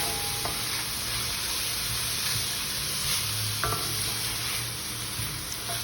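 Julienned onion with green and red peppers sautéing in oil, a constant close sizzle and crackle under occasional scrapes and clinks of stirring, no one speaking.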